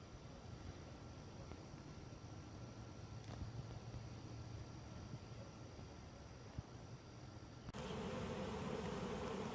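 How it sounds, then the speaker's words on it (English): A honey bee swarm moving into a hive gives off a faint, steady buzzing hum that drifts on through soft outdoor background noise and grows slightly louder and fuller near the end. "You can see the bees are moving from one side to the other."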